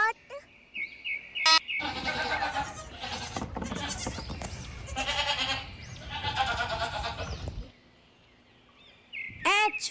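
Goat bleating in a children's alphabet phonics song, several wavering bleats over music with a sung voice across the middle, the cries loudest near the start and end.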